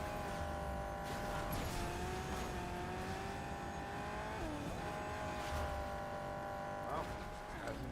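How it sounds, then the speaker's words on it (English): Car engine in Fortnite droning loudly and steadily, pitch rising and dipping as it revs and shifts, with occasional tire squeals, under faint background game sounds. "I never realized before now how loud this car can be."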